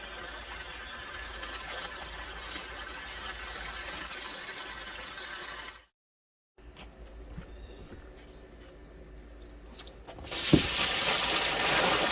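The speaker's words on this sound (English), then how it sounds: "so I'll fill this bucket and dump it in there." Water pours and gushes into a bucket being filled for decocting a sour mash bear bait, with a steady flow, a brief pause, then a louder rush near the end; no talking.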